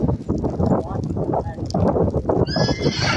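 Horses neigh and whinny loudly nearby in a snowstorm while hooves clop on the ground, with people talking over the commotion.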